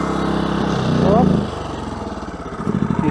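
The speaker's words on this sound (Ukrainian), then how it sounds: "У цьому режимі він працює трошки голосніше, чутно, що оберти у нього стали вищими." A petrol generator runs loud and close at raised revs, a steady mid-pitched engine drone that briefly swells, with a voice speaking over it.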